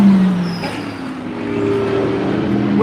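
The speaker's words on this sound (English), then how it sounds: "these cars are very, very loud indeed" GT race cars at Silverstone circuit roar past with loud, continuous engine noise, a steady high-powered drone that swells and holds throughout with no talking.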